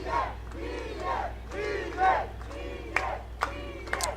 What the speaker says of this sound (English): they cheer for Guillermo Rojas, hoping he's able to make a stop here